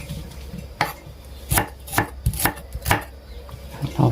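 A knife chops through lemongrass on a cutting board with several sharp, evenly spaced thuds, close and crisp, with no talking.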